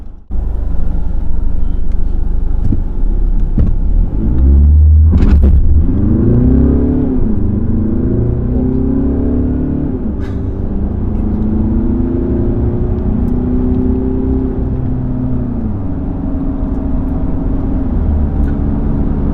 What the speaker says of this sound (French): Voilà un moteur qui a vraiment de très bonnes reprises.